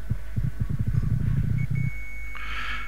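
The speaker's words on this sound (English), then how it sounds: "you hear the heartbeat" Deep, steady heartbeat thumps play in an Assassin's Creed 2 glyph puzzle, about a dozen close, regular pulses over a low hum, ending in a bright synthetic tone and a hiss.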